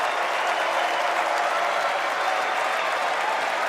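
A large crowd at Kamala Harris's Democratic National Convention speech cheers and applauds in a steady, dense roar of clapping and shouting that fills the whole stretch without letup.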